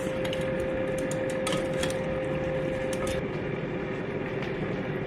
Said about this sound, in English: So if you hear the whirring in the background, that's the air fryer.